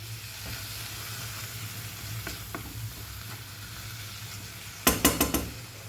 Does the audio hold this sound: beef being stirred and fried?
yes